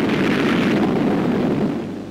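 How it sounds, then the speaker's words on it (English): A mortar shell explodes near landing barges during the Iwo Jima landings, heard as a loud, dense, rumbling blast that sustains and slowly fades, in old wartime newsreel sound. "From rocky positions, enemy mortars shell our landing barges."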